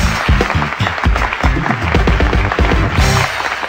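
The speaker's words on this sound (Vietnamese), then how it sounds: "chúng ta sẽ cùng tiếp tục tóm thêm một tràng pháo tay nữa" A studio audience at a Vietnamese family television show claps steadily in dense, continuous applause for a few seconds, loud and close, with no speech over it.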